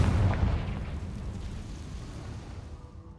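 A Confringo explosion spell from a Harry Potter video game goes off as a deep, heavy boom that rumbles and slowly fades out over a few seconds.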